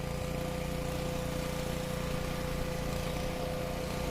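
Honda power tiller rotavator engine running at a steady, continuous drone with a faint hum, nearby, no voices over it.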